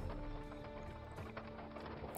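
Horses' hooves clip-clop steadily across a bridge in the Bridge Constructor Medieval video game, a fairly quiet, continuous patter of hoofbeats heard alone.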